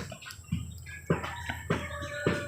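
Free-range hens roosting under a fallen mango tree on a rainy day, giving several short, fairly close clucks and squawks at irregular intervals over a quiet background.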